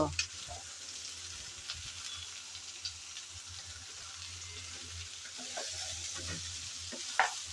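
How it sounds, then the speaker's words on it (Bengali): Sponge gourd (dhundul) is stirred in a pan and lightly fried in oil, giving a soft, continuous sizzle with occasional scraping stirs and light clicks, fairly quiet and close. "এখন নেড়েচেড়ে হালকা করে তেলে বেজে নেব"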